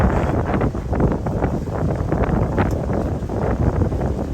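Strong wind buffets the microphone on a small boat touring coastal canals near Hernando Beach, a continuous low roaring rush with gusty swells and no voices.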